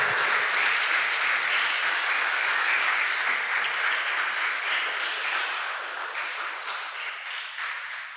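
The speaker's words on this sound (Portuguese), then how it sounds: "Fique de pé, aplaudindo a Jesus" Church congregation applauding, a dense, sustained wash of many hands clapping that slowly fades toward the end, with no talk over it.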